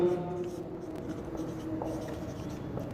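Chalk scratching across a classroom board during an English grammar lesson, soft continuous strokes with light taps, fairly quiet under a faint room background.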